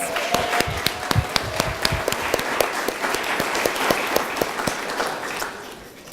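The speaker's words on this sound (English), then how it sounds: "Should we all give Chris Hadfield a big round of applause?" Warm, sustained applause from an audience of children and adults at a science centre event honouring Canadian astronaut Chris Hadfield, dense steady clapping with a few sharper claps standing out, tapering off toward the end.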